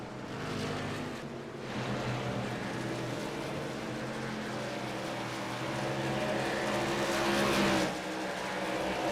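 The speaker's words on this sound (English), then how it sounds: "5 laps to go for Zach Millett, still 8 seconds ahead of teammate Brian Rose" Race trucks roar around an oval track at an Iowa truck series race, engines droning loudly and continuously, swelling as they pass close by.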